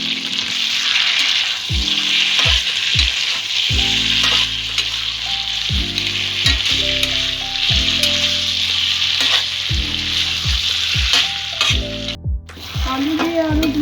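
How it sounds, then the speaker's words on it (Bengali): Chunks of potato and young jackfruit fry in a spiced masala for a vegetarian curry, with a constant close sizzle broken by repeated scraping and clattering stirring strokes from a spoon in the pan. "আলু দিয়ে আরও 2-3 মিনিট আমি কষিয়ে নিয়েছি।"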